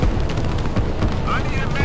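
Artillery fire rumbles in the real-time strategy game Line War, a steady booming bombardment that runs throughout under an ongoing voice.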